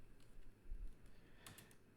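Quiet keystrokes tap on a computer keyboard during a statistics data-entry demonstration, a few soft clicks over a low room hum.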